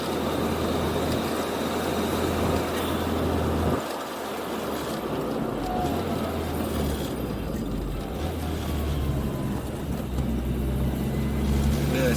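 A classic Mini Cooper Clubman Estate with a JET Motors turbo kit accelerating from inside the cabin, a steady engine drone rising through the revs amid road and wind noise, with no talk.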